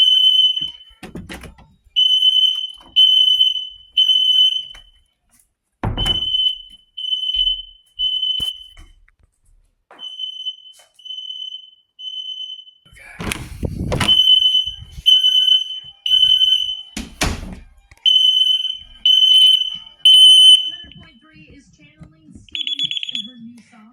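An ADT Impassa fire alarm beeps in repeating temporal-3 groups of three, loud and close, with clunks and knocks of movement in between.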